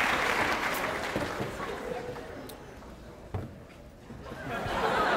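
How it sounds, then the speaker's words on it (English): Applause from the audience at a college stage hypnosis show, loud at first, fading to scattered clapping and light laughter, then swelling again at the end. "Give her a round of applause."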